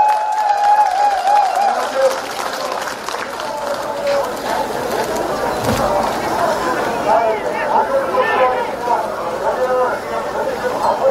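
A rally crowd at an outdoor Democratic Party presidential campaign event in Mokpo claps and cheers, a dense, steady wash of applause with crowd babble, sustained and loud throughout.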